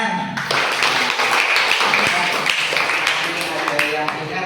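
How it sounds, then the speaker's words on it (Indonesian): Pupils in an Islamic jurisprudence (fikih) lesson clap their hands together in a dense, steady burst lasting several seconds, with a teacher's voice and classroom chatter mixed underneath. "Terus beri tepuk tangan."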